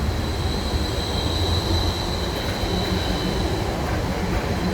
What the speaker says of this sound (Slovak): A takto vyzerá ich metro, hej?